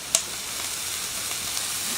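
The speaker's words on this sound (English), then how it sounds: "So we're adding some water" Boiling water from a kettle is poured into sizzling plov (pilaf) cooking outdoors over a fire, giving a steady broad hiss of frying and steam with a brief sharp splash near the start and no talking.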